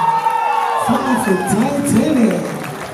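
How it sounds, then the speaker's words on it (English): A crowd at a dance recital and Tausala night cheers, whoops and shouts loudly, with high excited voices rising and falling over scattered clapping, close and sustained throughout. "round of applause for our bountiful location"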